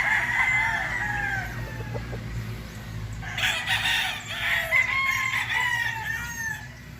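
Gamefowl roosters at a gamefarm crowing, with several overlapping crows at moderate distance amid background clucking and farmyard ambience, no talk.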